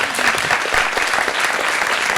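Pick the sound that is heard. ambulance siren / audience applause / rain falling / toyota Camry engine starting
audience applause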